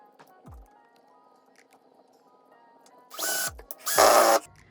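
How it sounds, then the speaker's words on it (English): Power drill driving a screw into a wooden canvas frame, two short whirring bursts near the end, the second louder and longer, after faint clicks and handling noises. "And then I'll just drill in the second screw."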